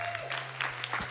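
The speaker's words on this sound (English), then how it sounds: "round of applause, everyone" A short burst of audience applause at a speedrun event, quick claps clustered together, fairly faint and steady throughout.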